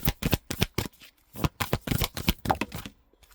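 Oracle cards shuffled by hand for a reading, a close series of crisp papery riffles and slaps in quick bursts, briefly pausing before a final few.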